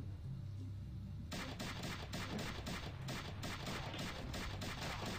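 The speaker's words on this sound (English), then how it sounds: "Awesome ray gun." A ray gun in the action shooter Madness Project Nexus fires a steady rapid stream of sharp, evenly spaced zaps that starts abruptly and keeps going over a constant noisy background.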